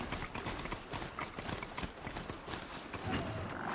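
Hoofbeats from a metallic horse mount in the video game Horizon Zero Dawn form a rapid, rhythmic clip-clop, close and steady, with faint mechanical clanks underneath.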